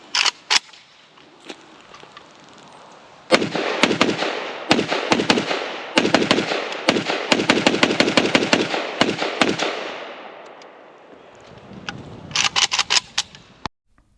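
Polish FB Radom Beryl Archer rifle firing: rapid, loud, close shots in dense bursts for several seconds, then a short second flurry after a pause.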